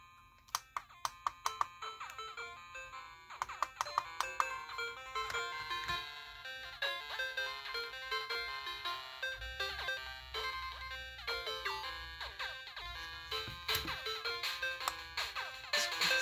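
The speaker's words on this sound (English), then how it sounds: "I'm going to play my intro theme song" Intro theme music plays through a kit-built ICStation digital FM radio, bright plucked melodic tones over a steady low bass line, fairly faint and continuous without talk.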